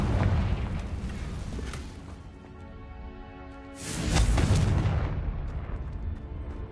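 A Confringo spell explosion in the video game Hogwarts Legacy: a loud, broad booming blast that rumbles and fades, then a second heavy burst about halfway through, with no talk over it.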